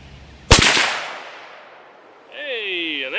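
A single loud, close CVA Scout .45-70 Government rifle shot fired at a target, a sharp crack with a long decaying tail, followed later by a brief voice as the echo fades.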